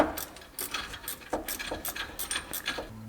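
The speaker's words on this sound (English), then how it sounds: "So grab your spanner and undo this nut right at the top here." A spanner ratchets and clicks while undoing the top nut of a sway bar link on a Landcruiser, giving a close, rapid series of metallic clicks and taps with no talk.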